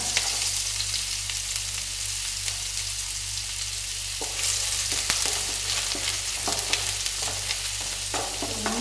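Ginger and garlic sizzle in hot oil in a pan with curry leaves: a steady, close, dense frying hiss that runs throughout, with scattered spatters and a few scraping stirs toward the end. Nobody talks.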